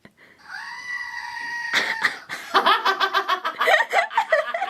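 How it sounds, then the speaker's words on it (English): A screaming goat novelty toy is set off with a button press, giving one loud, drawn-out bleating scream that breaks off into bursts of close laughter. "Everyone should have a screaming goat just for those days."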